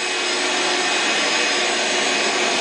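A saw in a portable all-in-one carpentry workshop makes a rip cut in wood, producing a loud, steady, dense rushing and grinding noise that continues without a break throughout.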